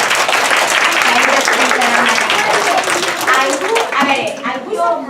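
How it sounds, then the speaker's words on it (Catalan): An audience breaks into loud, close clapping that carries on steadily, with voices rising over it as the applause continues. "Aplaudim."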